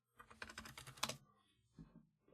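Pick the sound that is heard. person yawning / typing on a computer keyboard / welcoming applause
typing on a computer keyboard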